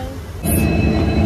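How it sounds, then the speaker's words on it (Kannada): A goods train rumbles past on the Bengaluru–Kukke rail route through green hills, with a deep, loud, steady roar that swells suddenly as it draws close. "ಟ್ರೈನ್ ಬರ್ತಿದೆ ಅನ್ಸುತ್ತೆ ಅದಕ್ಕೆ ಸೌಂಡ್ ಬರ್ತದೆ"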